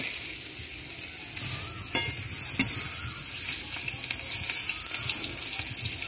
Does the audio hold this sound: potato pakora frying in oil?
yes